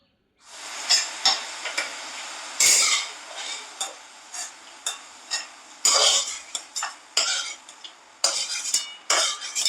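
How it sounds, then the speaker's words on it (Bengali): Cashews and raisins fried in ghee in a pan, with a faint sizzle under repeated sharp scrapes and clinks of a spoon against the metal pan, an irregular rhythm of stirring strokes close by. "আগে কাজু কিশমিশগুলো দিয়ে ভেজে নিই"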